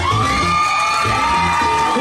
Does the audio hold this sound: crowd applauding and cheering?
yes